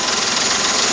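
Ford 3600 tractor engine running steadily up close, a continuous loud mechanical drone with knocking texture, no talk over it.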